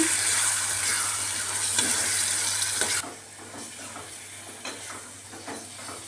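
Curry ingredients for a kabuli chickpea curry are stirred in a hot pan, a loud sizzle for the first half giving way to quieter scraping and stirring strokes, with no voices.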